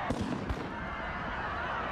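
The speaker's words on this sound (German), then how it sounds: "Böller, Böller, Böller." Firecrackers go off in the riot video game RIOT - Civil Unrest, a couple of sharp bangs early on followed by a crackling, noisy wash of blasts and crowd-like commotion.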